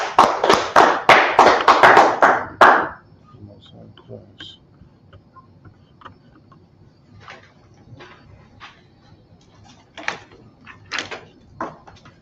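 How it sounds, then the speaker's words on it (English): A brief burst of clapping for a class at a Harlem gathering, a few loud, close, separate hand claps lasting about three seconds, followed by quiet with scattered faint taps and knocks. "Clap it up for the class."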